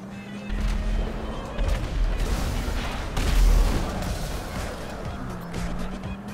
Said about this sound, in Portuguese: Não, alguém me dando tiro aí.